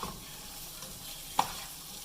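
Onions fry in a pan, a low steady sizzle with soft stirring scrapes and one sharp utensil tap against the pan midway.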